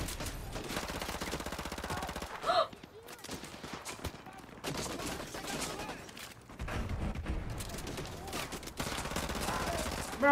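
AK rifle fire in Call of Duty Modern Warfare Remastered: rapid automatic bursts, loud and close, broken by a couple of short pauses, with a player talking over the shooting.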